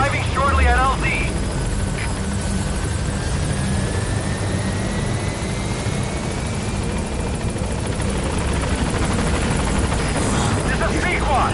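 A support helicopter in Metal Gear Solid 5 flies in to a landing zone, its loud, steady rotor roar filling the scene, with brief voice fragments at the start and end.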